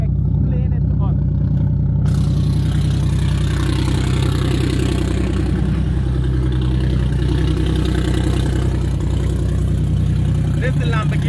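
A Lamborghini engine runs loud and close, a heavy continuous rumble that swells into a rev midway and then settles back, with voices talking over it.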